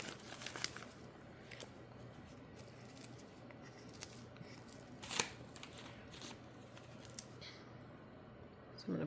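Faint crinkling and rustling of a plastic piping bag close by, in irregular small crackles and snaps with a few sharper bursts, no talking.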